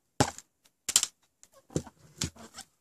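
Plastic clicks and snaps of a Tom Clancy's The Division game disc being pressed onto and released from the centre hub of its case, several short sharp ticks spaced apart, close and fairly quiet.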